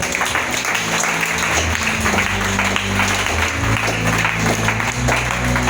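A church congregation at a French-language teaching service applauds steadily, a sustained wash of clapping with a low organ or keyboard tone droning underneath, moderately loud and unbroken.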